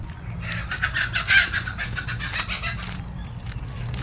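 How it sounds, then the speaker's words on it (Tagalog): Chickens cluck and chatter in a busy, steady flurry of short calls, moderately close, over a low background hum. "Yung mga manok. Wow, manok."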